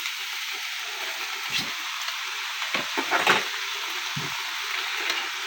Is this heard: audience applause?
no